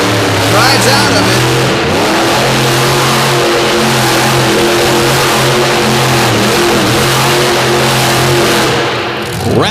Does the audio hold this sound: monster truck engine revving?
yes